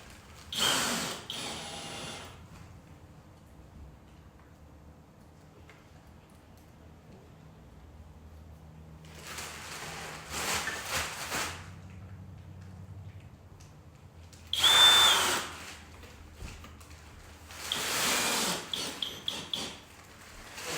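A power drill drives screws into drywall in several short bursts separated by quiet pauses, fairly close, with faint background rumble between the runs.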